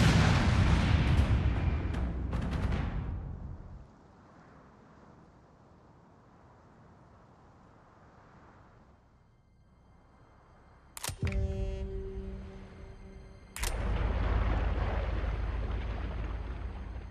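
Incoming artillery rounds in the Company of Heroes 3 video game: a loud blast fades to a low rumble, then two sharp, heavy explosions land near each other with a ringing tail and a booming aftermath.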